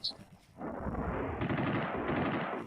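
An MG 34 machine gun fires a sustained, rapid burst at about 900 rounds per minute, loud and dense, starting after a brief quieter moment and continuing steadily to the end.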